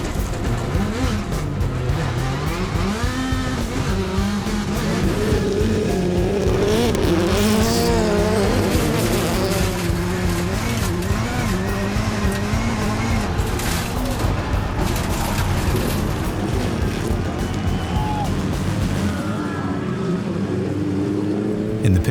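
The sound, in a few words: Subaru rallycross cars racing to the finish line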